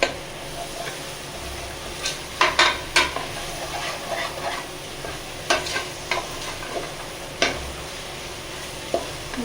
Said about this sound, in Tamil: நல்லா கிண்டிகிட்டே இருங்க, அடி வந்து பிடிக்கக்கூடாது